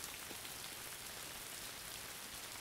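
Steady rain falls on a surface, a constant soft hiss of dense drops with no variation, faint and distant, with no voices.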